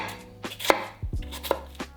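A knife cuts through an onion on a cutting board in several crisp, separate chops, close by and fairly quiet, with no speech.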